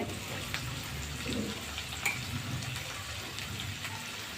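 Pasta ingredients frying in a pan at a friend's home, a steady moderate sizzle with occasional stirring scrapes and watery crackle, close up and continuous with no voice over it.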